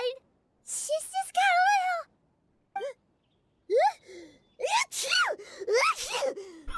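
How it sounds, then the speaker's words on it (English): Paimon, a video game character, lets out a series of high, gasping, whiny sneezes in uneven bursts with short silences between them. Her voice is close and loud, and some breathy vocal sounds mix in. "She's got like, ugly cry sneezes."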